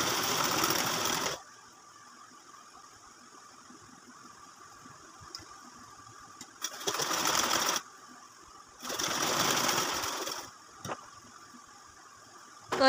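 A sewing machine stitches a baby girl's frock in bursts, with one long run at the start and two shorter runs later, separated by quiet pauses.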